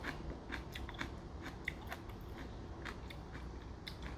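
Crunchy sweet potato stem kimchi chewed up close, with a steady run of crisp, wet bites and crackles repeating for several seconds over a low background hum.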